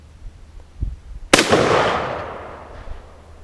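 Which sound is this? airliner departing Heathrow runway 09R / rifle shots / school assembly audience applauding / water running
rifle shots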